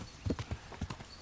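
Horse hooves clip-clopping in the video game Kingdom Come: Deliverance, a handful of close, distinct hoof strikes in a quick uneven rhythm.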